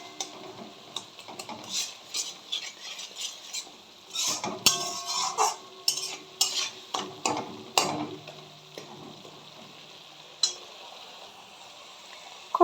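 Spice paste with salt, a little sugar, a splash of water and Kashmiri chilli powder is stir-fried in a pan, with repeated clattering scrapes of a spoon against metal over a soft sizzle, close and irregular.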